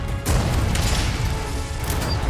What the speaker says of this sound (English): I was hoping that would be a bigger explosion.